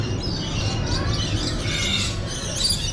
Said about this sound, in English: you can see the lorikeets are doing their song